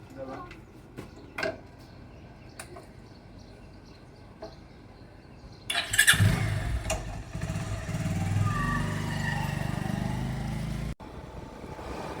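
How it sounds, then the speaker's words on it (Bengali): A motorbike engine revs up and carries on as a steady drone while riding, following a few seconds of quiet with faint scattered clicks and taps. "বাইক চালাচ্ছে"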